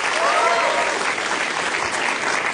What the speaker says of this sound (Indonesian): Tepuk tangan buat Bintang.